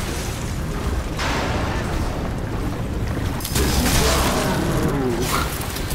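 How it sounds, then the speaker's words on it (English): Rapid gunfire from a bullet-spraying weapon in the video game Crysis 3 comes as a dense, continuous rattle with booming low rumble, growing louder and harsher midway, close and loud, with faint voices mixed in. "This thing sprays bullets"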